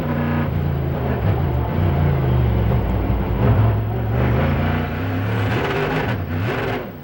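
Onboard an Acura P1 race car at the 2009 Long Beach ALMS race as its half shaft snaps, a loud, sustained engine drone with shifting revs that drops off near the end.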